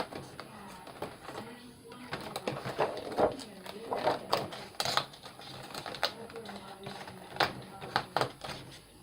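A Brother ScanNCut machine cuts, giving an irregular run of sharp ticks and clicks, close and fairly quiet, over a faint steady hum.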